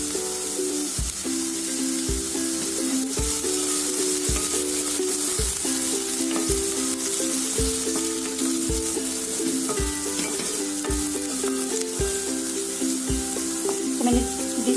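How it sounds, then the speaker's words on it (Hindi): Ginger and green chillies sauté in hot oil in a pan for a samosa filling, a steady loud sizzle with a continuous hiss and occasional stirring knocks, no talk. "मैंने 20 से 30 सेकंड के लिए सॉटे किया है जिंजर और ग्रीन चिली को"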